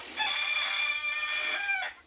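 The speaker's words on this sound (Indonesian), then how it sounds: "Ini suara ayam nganggu terus ini." Nearby in a fiberglass boat-building workshop, a rooster lets out one clear, sustained crow that rises and holds for nearly two seconds before cutting off, loud and alone.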